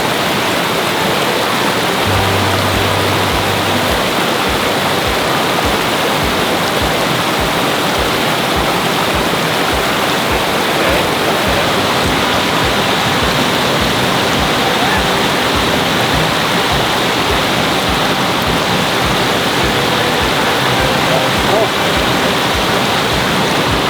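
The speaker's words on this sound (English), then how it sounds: "this kind of secluded little waterfall right here" A small secluded waterfall at Big Sur gives a steady, loud, broadband rush of falling water, unbroken and close for the whole stretch, with no voices over it.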